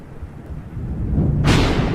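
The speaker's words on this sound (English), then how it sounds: "a streak of lightning flashes and a clap of thunder ripples across the sky" A clap of thunder in a storm: a low rumble builds over a second, then breaks into a loud, broad crack that rolls on, close and alone.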